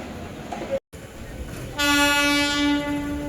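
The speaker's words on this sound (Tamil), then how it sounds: "இங்கே ஒரு ட்ரெயின் வருதா, அப்படியே பாருங்கள் அங்கேருந்து ஒரு ட்ரெயின் கிளம்புது." Train arriving at a station and sounding a long, loud horn blast that begins partway through, after a brief dropout, above a background of station and rail noise.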